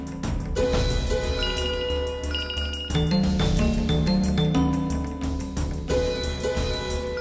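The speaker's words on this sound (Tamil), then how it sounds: "ஃபோன் வந்திருக்கு." A telephone rings in a Tamil television drama scene, a repeating chiming ringtone over a steady bed of background music, with no talk.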